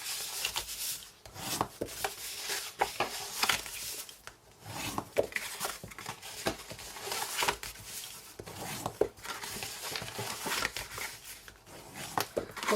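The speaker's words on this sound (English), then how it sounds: "let's fold up my, burnish these score lines." Cardstock score lines for a twist-and-close hexagonal box are burnished by hand, giving repeated close, dry rubbing and scraping strokes in an uneven rhythm with no talking.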